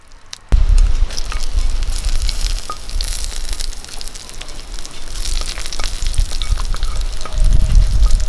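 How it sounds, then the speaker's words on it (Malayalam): Curry leaves are dropped into hot oil for a rose apple pachadi and burst into a loud, close, crackling sizzle after a sudden start, continuing steadily and swelling again near the end. "ഒരു രണ്ട് കരിയാപ്പില നമുക്ക് ഇതിലേക്ക് ഒഴിച്ചു കൊടുക്കാം"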